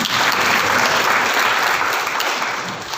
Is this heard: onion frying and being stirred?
no